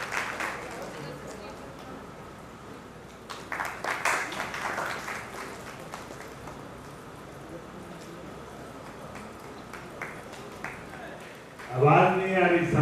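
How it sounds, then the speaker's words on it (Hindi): An audience at a Buddha Jayanti gathering bursts into applause to welcome a speaker, a short dense round of clapping near the end after a stretch of speech and crowd murmur. "जोरदार तालियों से उनका स्वागत"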